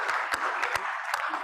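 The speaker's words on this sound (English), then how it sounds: "please give a round of applause for Dr." Brief, light applause from a medical symposium audience welcoming a doctor to the podium, a few distinct claps over a soft background.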